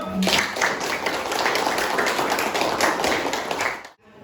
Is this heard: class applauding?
yes